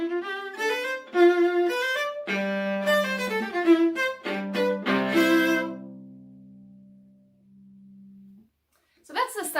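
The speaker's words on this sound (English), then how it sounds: "So that's the sound of the viola." Viola plays a lively, fast passage with quick bowed notes and deep, rich sustained tones, close and solo, settling into a held low note before a short final flourish.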